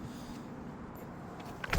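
An outboard motor's electric power trim unit runs with a low, steady motor hum throughout, ending with a brief louder clunk.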